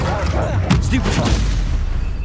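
Stupefy stunning spell cast during a Hogwarts Legacy fight, a booming impact amid continuous explosive combat noise, with a voice talking over the din.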